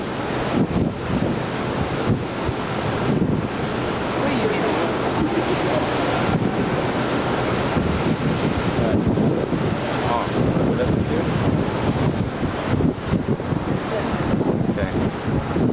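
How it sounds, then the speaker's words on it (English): Steady, loud wind buffets the microphone on the deck of the US Navy fast combat support ship USS Rainier (AOE-7) at sea in 1999, a continuous roaring gust with sea noise beneath and no speech. "A little windy out."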